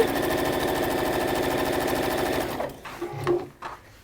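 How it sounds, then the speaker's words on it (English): A sewing machine stitching fabric at a fast steady rhythm, close and loud, then stopping abruptly with a few handling clicks and rustles at the end. "again sew from that blunt end in again"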